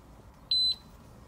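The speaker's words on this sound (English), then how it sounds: "press and hold it down until you get the double beep" A Suzuki DF150 outboard engine gauge on a 2019 power boat gives a short, clean electronic beep, a single bright tone of about a quarter second against a quiet background.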